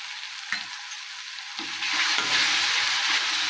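Green chillies and turmeric fry in a pan as a spoon stirs them. A quiet sizzle after a sharp tap swells into louder, denser frying and scraping partway through.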